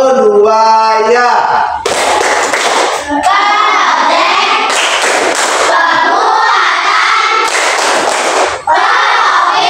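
Schoolchildren perform a tepuk P5 clapping chant together in a classroom, a loud group of young voices chanting in rhythm with bursts of hand claps throughout.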